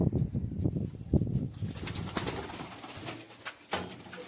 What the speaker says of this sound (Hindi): ये देखो, ये पंजाबी कबूतर है इनके लो फ्लायर।